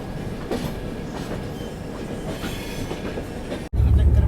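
Kalinga Utkal Express train running on rails, a steady rumbling rattle of the carriages with faint clatter throughout, then a sudden louder low roar near the end, with voices murmuring in the background.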